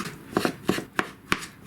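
Sticky Japanese rice is chopped in a bowl with a utensil, five sharp, close taps spaced at a fairly steady rhythm over a quiet background.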